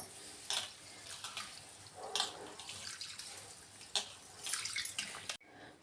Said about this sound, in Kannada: ಸ್ವಲ್ಪ ನೀರು ಹಾಕ್ಬಿಟ್ಟು ಒಂದು ಸತಿ ತೊಳ್ಕೊಂಡ್ರೆ ಸಾಕು